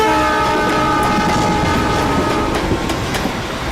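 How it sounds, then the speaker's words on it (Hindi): A passenger train to Delhi rumbles loudly and close, with a steady roar and faint rhythmic wheel clatter running throughout, with no voices. "इसीलिए हम दिल्ली की ट्रेन में चढ़ गए"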